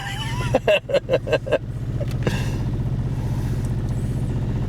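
A Hyundai car engine idling roughly at about 500 RPM, close to stalling with no throttle control: a steady low rumbling drone with a brief pulsing stutter near the start, heard up close from inside the car.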